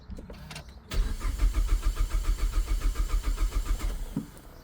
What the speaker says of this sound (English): if you depress the clutch and accelerator pedal when you start it, it will not fire, it will just crank